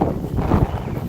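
Outdoor wind buffets a microphone beside a lawn and flower bed, producing a brief, loud low rumble with no clear talk.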